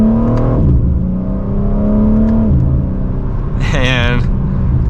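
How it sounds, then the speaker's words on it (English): A 2025 BMW M4 Competition accelerating through the gears, its engine note climbing, dropping at shifts, then climbing again. The sound is loud and steady under cabin rumble, with one sharp high rev near the end. "So let's give it another acceleration."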